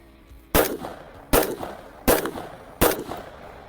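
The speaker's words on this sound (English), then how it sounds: "First off, I will shoot from the hip with my laser on 4 rounds." Four sharp gunshots are fired from the hip with a laser sight on, evenly spaced and loud and close, each followed by a short decaying echo, with quiet between them.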